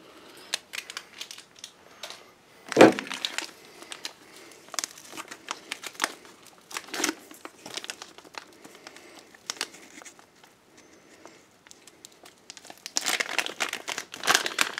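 A stubborn plastic MRE packet from a 2012 US ration being wrestled and torn open, long stretches of crinkling and crumpling with sharp rips and one loud tearing burst, close and alone.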